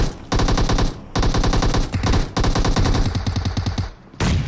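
Battle royale video game gunfire: close, loud bursts of rapid automatic fire in several long volleys separated by brief pauses.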